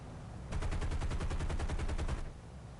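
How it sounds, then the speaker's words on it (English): .50 caliber machine guns on a B-24 bomber in a video game fire one sustained burst of rapid, evenly spaced shots for about two seconds, loud and close over a constant engine drone. "Hopefully we can try out these 50 cals again"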